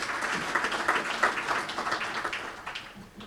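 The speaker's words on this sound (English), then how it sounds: "let's give them a round of applause" An audience at the launch of a capital market claps in a short burst of applause, fairly close and dense at first, then thinning and fading toward the end.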